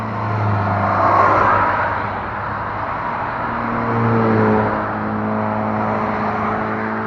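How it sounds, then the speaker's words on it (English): Road traffic passes on a street near a corner, with car engines swelling as vehicles approach and fade away in a steady rumble, two passes rising louder before easing off. "Now the traffic's going by"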